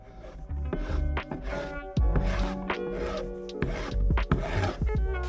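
A spokeshave shaves a wooden workpiece held in a benchtop jig, giving close rasping strokes in a rough repeating rhythm with sharp knocks between passes.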